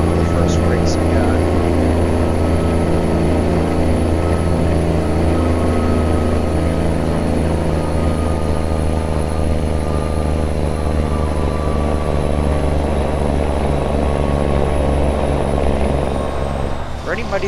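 An older pre-emissions truck in American Truck Simulator runs loud, its engine and turbo making a heavy, continuous droning roar with steady harmonic whine that barely changes over the whole stretch.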